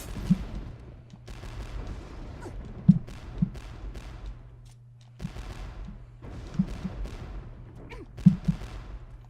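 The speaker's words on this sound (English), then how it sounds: "You've got cannons and stuff like that." Repeated booming cannon shots in the video game Shantae and the Pirate's Curse go off at irregular intervals, sharp thumps over a steady low hum, with game sound effects between them.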